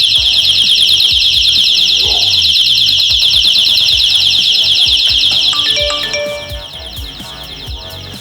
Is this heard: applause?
no